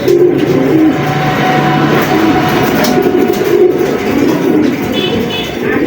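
Pigeons coo repeatedly in soft low burbling calls over a dense, steady background of bird noise.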